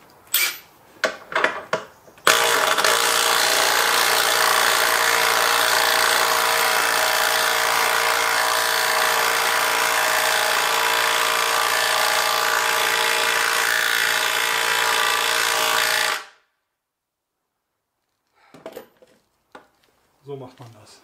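A Parkside Performance X 20V cordless drill driver, PABSP 20 Li B2, drives an ordinary socket with a loud, continuous, close motor whir lasting about fourteen seconds, framed by a few sharp handling clicks before and after.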